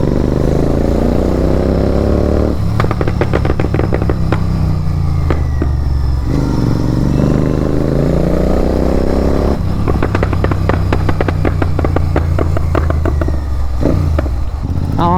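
A Royal Enfield Continental GT 650 twin-cylinder motorcycle is ridden, its loud engine droning steadily with repeated rising and falling revs through gear changes, heard up close throughout.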